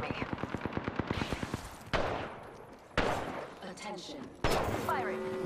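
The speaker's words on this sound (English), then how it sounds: "They're shooting at me." Rapid automatic gunfire from an Apex Legends firefight rattles off in a fast burst, then several sharp, loud single shots and impacts ring out, with in-game voice callouts mixed in.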